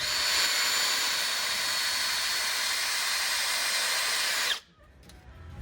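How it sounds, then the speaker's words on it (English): A loud, continuous high-pitched whine of a drill biting into metal to make holes for a suspension mount, running steadily for several seconds before cutting off abruptly. "So we'll drill some holes"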